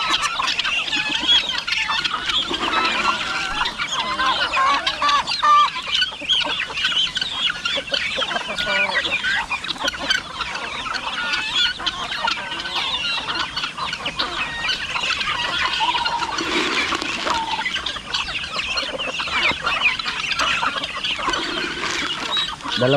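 Chickens and roosters cluck steadily on a farm in the Philippines, a dense, continuous chorus of overlapping calls and squawks lasting throughout, fairly close and loud with no talking.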